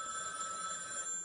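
A telephone rings with an incoming call during a French call-in TV segment, giving a steady electronic ringing tone that holds throughout at moderate volume with no talk over it.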